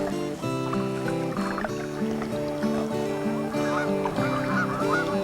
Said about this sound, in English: There go the geese down there.